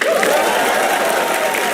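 At a comedy roast show, an audience claps for the opening act, a dense steady mix of applause and crowd noise, loud and unbroken throughout.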